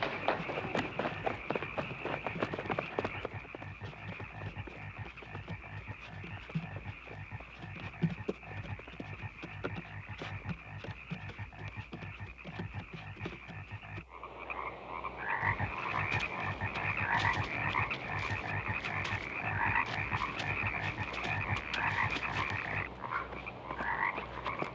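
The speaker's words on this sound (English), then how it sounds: "watch out for the frogs" A dense chorus of frogs croaks steadily by a dock, a continuous rattling and pulsing mass of calls that grows fuller midway and holds at moderate volume throughout.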